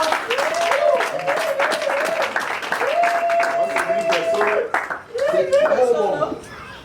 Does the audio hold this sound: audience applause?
yes